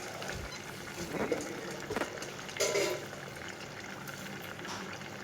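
Water at a rolling boil in a cooking pot for mushroom biryani, a steady bubbling wash throughout with a few brief louder splashes and clatters, no voices.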